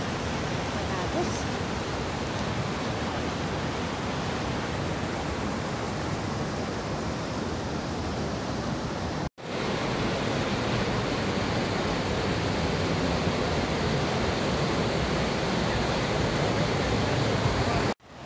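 Johnston Canyon's lower falls roar with a steady, loud, close wash of falling water on a summer hike. The dense rush barely changes, broken only by a couple of sharp cuts.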